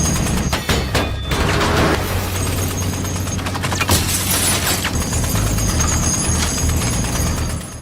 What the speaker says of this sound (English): the president's armored vehicle was disabled by machine gun fire